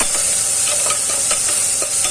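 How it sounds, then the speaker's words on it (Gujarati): Chopped long beans tempered in hot oil with reddened garlic sizzle loudly and steadily, a constant hiss with small crackles and soft stirring scrapes, close up. "હવે આપણે ચોળી વઘારશું।"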